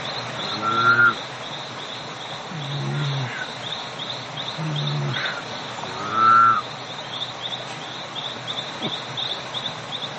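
Golden frog calls in a quiet natural setting: a few short, separate croaking calls spaced several seconds apart over a steady high insect-like hum, fairly close and moderately loud.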